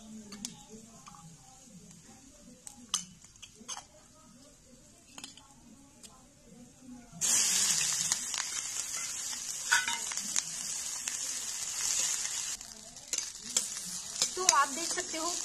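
Fenugreek seeds and asafoetida in hot oil over a clay chulha start with a faint crackle and scattered utensil taps, then a loud, dense sizzle swells up midway and keeps going with stirring scrapes.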